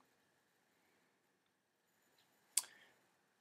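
A single crisp computer mouse click, quiet and close, in an otherwise near-silent room.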